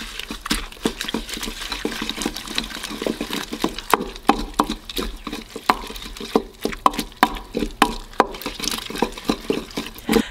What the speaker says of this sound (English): Give this a really light pound and stir.